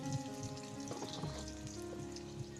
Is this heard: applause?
no